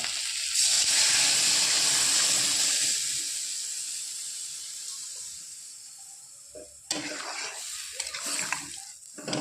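Water poured into a pan of rui fish curry with flat beans, potato and bori, giving a loud hissing rush as it hits the hot masala and then tapering into a softer simmer, with a second burst of sizzling and clatter near the end.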